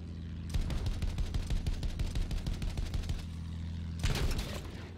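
Anti-aircraft gun firing in Battlefield 1, rapid rhythmic bursts of heavy gunfire, one long sustained stream followed by a shorter burst after a brief pause, loud and close.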